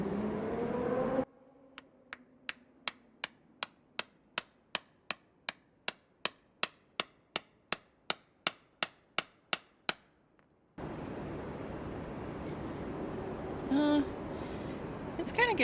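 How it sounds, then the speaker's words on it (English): A hammer pounds a metal spoon wrapped in a dish towel, about twenty sharp, evenly spaced blows in a steady rhythm, each ringing briefly, framed by stretches of louder background noise before and after. "I'm gonna put my spoon in the dish towel and then try to pound it down with the hammer"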